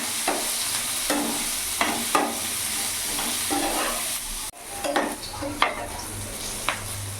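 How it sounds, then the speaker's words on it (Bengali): Eggplant pieces with salt and turmeric sizzle in a pan while a spatula scrapes and stirs in repeated strokes, with a brief drop in the frying sound midway. "বেগুনগুলো লাল লাল করেই ভেজে নেব"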